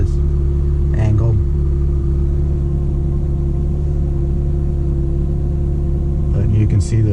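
A 1989 Ferrari Mondial T engine idles steadily in the rain while stopped at a traffic light, a continuous low rumble with a few brief shifts in tone.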